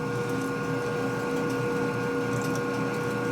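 A machine cutting during top-end repair on a 1958 Harley-Davidson panhead 74ci engine gives off a steady, loud droning hum with a sustained tonal whine, unbroken throughout and heard close with no talk.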